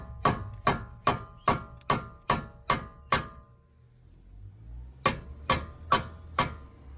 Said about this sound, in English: we're just gonna line up the lower ball joint pin to the hub. I'm gonna tap in gently.